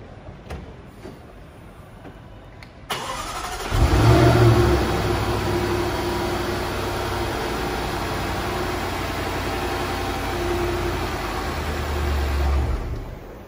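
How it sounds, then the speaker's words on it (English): A Jaguar F-Pace's 5-litre supercharged V8 cranks and fires up after a few faint clicks, gives a loud rev, then settles into a deep, steady idle that swells slightly again near the end, with no talk. "the 5-litre V8 supercharged engine sounds fantastic on startup"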